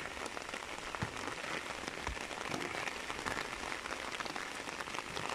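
Rain falls steadily on an umbrella and surrounding surfaces outdoors, a faint, even hiss of dense droplets with scattered sharper taps, unbroken and without voices.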